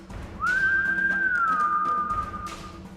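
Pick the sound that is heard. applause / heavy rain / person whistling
person whistling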